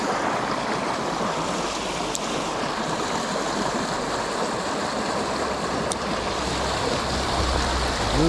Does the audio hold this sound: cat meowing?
no